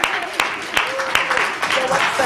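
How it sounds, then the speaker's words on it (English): Audience applause at a Women in Leadership 2020 event, celebrating Theta Recruitment and HR Services, scattered claps and cheering over a busy crowd murmur with a voice speaking above it. "I think we need to give Theta Recruitment and HR Services a standing round of applause."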